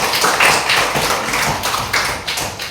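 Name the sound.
classroom clapping for a student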